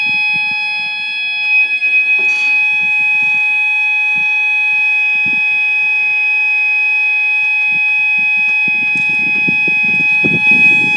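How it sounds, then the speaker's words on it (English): A faulty level crossing alarm at Helpston, Cambridgeshire sounds as a steady, loud electronic tone with stuttering pulses, continuous throughout, with faint background noises and brief distant clatter. "Broken alarm."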